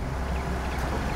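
A combine harvester engine in Farming Simulator 22 rumbles on with a low, steady, close-up throb in one brief burst.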